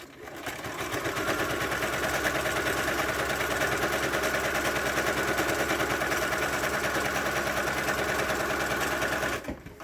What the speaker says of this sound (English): And I'm going to keep stitching.